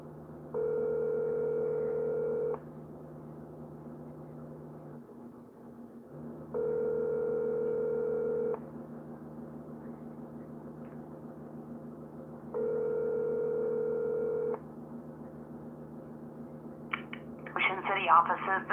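A phone rings over the line three times, each ring about two seconds long and evenly spaced, with a low hum between and a rustle at the end.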